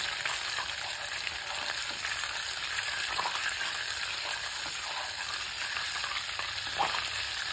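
Raw milk cream is stirred in a pan while it cooks down into ghee, making a soft, continuous bubbling sizzle with faint stirring scrapes. The sound is close and low in level, with no voices.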